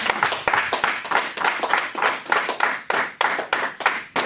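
Church congregation clapping together in a steady rhythmic beat, sharp close claps repeating about three per second, loud and continuous with faint voices in the background.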